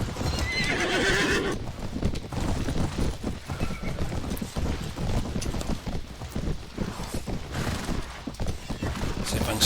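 In the Mount & Blade Warband video game, a horse gallops with steady clip-clop hoofbeats and neighs once near the start, set against a rushing, windy battlefield ambience.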